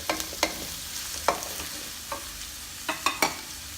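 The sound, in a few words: onions sautéing in oil with whole spices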